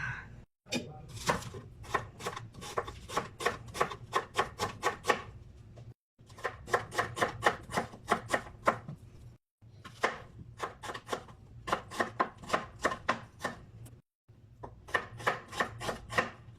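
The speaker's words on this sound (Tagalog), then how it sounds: "maghiwa-hiwa muna tayo ng ating sibuyas" A knife chops onions on a cutting board in a steady, rapid rhythm of crisp taps, broken into several bursts with brief pauses between them, close and clear with no talking.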